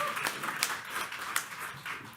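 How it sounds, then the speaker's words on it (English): An audience at a Brick Township council meeting gives brief, moderate applause for a local marching band, a short burst of scattered clapping in a hall. "Yes, applause."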